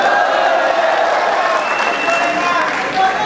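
An audience at a 2011 RTI programme at AMU claps in a loud, dense, continuous burst that holds steady throughout, with a voice faintly under it.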